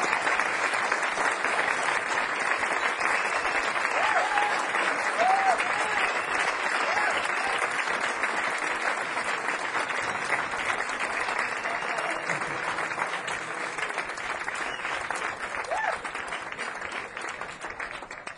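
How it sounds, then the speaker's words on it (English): Audience applause at a 1979 live jazz concert in Harvard Square, a dense, sustained wash of clapping from a crowd that holds steady for the whole stretch and fades slightly at the end. "Let's give a nice round of applause"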